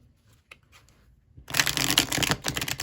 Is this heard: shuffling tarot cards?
yes